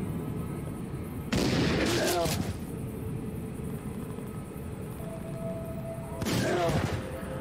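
Gunfire from the zombie survival game Dead Age, heard as two loud bursts of rapid shots, one early and one near the end, over a steady game background hum with a sustained tone in between.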